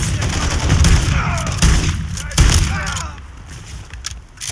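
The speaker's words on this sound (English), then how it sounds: "I like this incendiary gun." Gunfire from an incendiary gun in the 2023 video game Call of Duty: Modern Warfare III, on a highrise level: loud overlapping bursts and thuds dominate the first three seconds, then fade, with game dialogue under the shooting.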